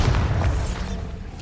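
Deep magical blast from the Bombarda spell in Hogwarts Legacy: a loud, close boom that rolls out and slowly decays over about a second and a half.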